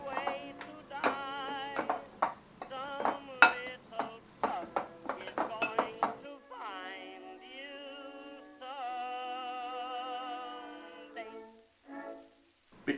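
Avocado, lime and lime zest are mashed together in a bowl, giving a rapid run of utensil clinks and taps against the bowl, followed by softer sustained tonal sounds in a quiet kitchen.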